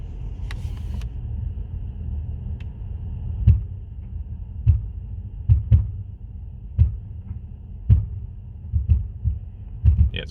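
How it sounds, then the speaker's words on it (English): A low rumbling hum from a Mercedes slowly reversing in winter, its tyres crabbing with repeated deep thumps and knocks at irregular intervals, fairly loud and close. "Yes, it's definitely crabbing again. And that's very loud."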